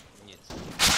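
Gunfire in the military shooter game Arma 3, a burst of shots building up and loudest at the end, heard amid game ambience with no clear talk.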